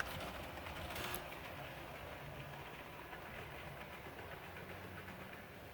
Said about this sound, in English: So we've cut the engines, and we're just going to move them away.